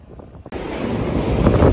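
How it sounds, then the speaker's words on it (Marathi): Strong seashore wind buffets the microphone, a loud, continuous roaring rumble that cuts in abruptly after a brief quieter moment and keeps going. "हवेचा आवाज जास्त येत असेल तुम्हाला"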